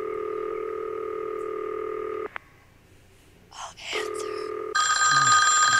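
A telephone bell ringing in a movie, two long ring bursts separated by a pause, with a brief noisy interruption and a brighter tone at the end.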